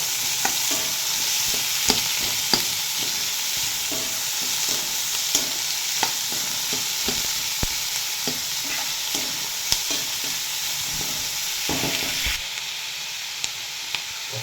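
Finely chopped onion frying in a pan, stirred repeatedly, with a steady close sizzle broken by regular scraping clicks of the spatula.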